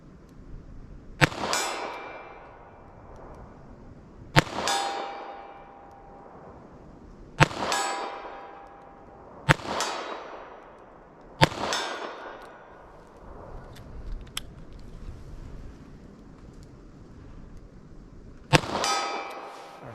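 A .32 S&W Long revolver fires at a steel target about 40 yards away outdoors. Six sharp reports come at irregular intervals, each followed by a ringing clang from the steel and a short decay.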